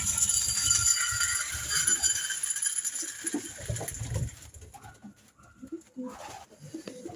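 Racing pigeons arrive back at a clean loft, with soft cooing, wing flutters and shuffling near and in the foreground, plus a faint high whine at first that drops away partway through.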